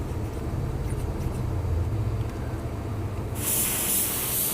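An Astro pneumatic paint spray gun bursts into a steady, loud hiss partway through, laying a roughly 10-inch fan pattern in a garage for painting bumpers and a fender on a 1992 Honda Accord, over a low background rumble.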